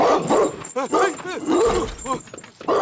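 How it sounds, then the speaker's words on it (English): A dog barks and whines in a scene from the TV drama Squid Game, heard under loud, continuous talking from a viewer reacting to the show. "This poor dog just been out here this whole time."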